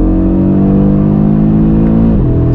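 Audi RS3 (2022) exhaust revving loud and steady under load, its note holding high before dropping sharply near the end with the upshift, heard alone with no talk.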